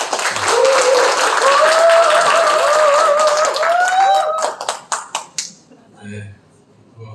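A crowd at a Democratic Party labor committee launch ceremony in Cheongju applauds loudly and densely, with a voice carrying over it. The clapping then thins to a few scattered claps and fades out.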